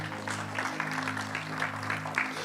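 Church congregation applauding during a sermon, a short, soft patter of clapping over a sustained musical drone in the background.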